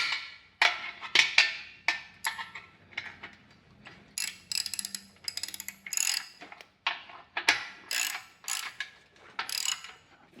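An engine hoist mounted on a sub-compact tractor's 3-point hitch is tightened, giving a long series of sharp ratcheting clicks in irregular bursts with brief pauses, close and crisp.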